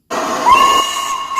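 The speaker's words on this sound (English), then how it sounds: "Oh, there's the guard's whistle." A guard's whistle at a railway station sounds loud and close, with a single sustained shrill tone that starts abruptly, holds steady, and carries a hissy edge, heard alone.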